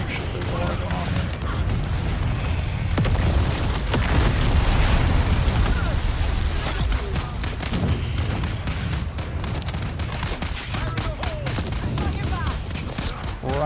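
Grenade blasts in the Dune: Awakening video game, a dense run of booming explosions and bursts layered over chaotic combat noise throughout, with a player talking over the action.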